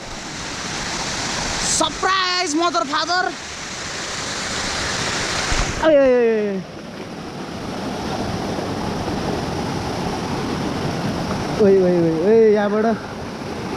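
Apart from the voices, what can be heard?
waterfall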